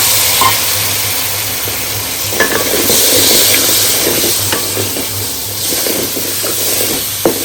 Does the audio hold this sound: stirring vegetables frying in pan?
yes